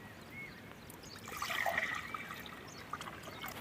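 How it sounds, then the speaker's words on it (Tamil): A jug of water is poured into a pan on the stove while making moringa leaf soup, a short, faint splashing trickle that swells briefly in the middle and then tapers off. "ஒரு சொம்பு தண்ணி."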